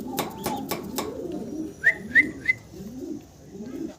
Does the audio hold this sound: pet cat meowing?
no